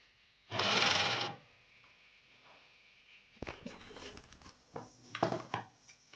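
An overlock sewing machine runs in a short, loud burst, then the quieter sounds of fabric being handled and a few clicks follow.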